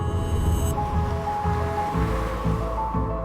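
Ocean waves break along a coastline in a steady rolling surf, with soft surges and washes about every half second to a second and no voices.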